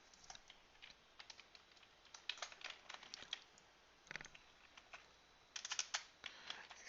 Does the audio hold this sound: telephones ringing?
no